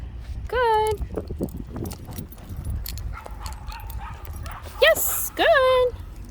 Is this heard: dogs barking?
yes